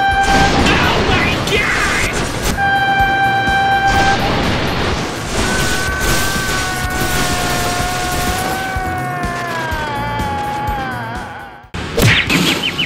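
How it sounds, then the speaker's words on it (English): A train in a cartoon vehicle-racing scene sounds a loud, sustained horn with wavering tones over busy background noise, then a sharp crash hits near the end. "Oh my god, train! Stop your car now!"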